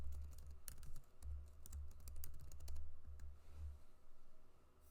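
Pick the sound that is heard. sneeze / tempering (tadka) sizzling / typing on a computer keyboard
typing on a computer keyboard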